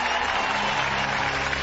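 An audience claps together in a dense, steady burst of applause throughout. No voices stand out above it.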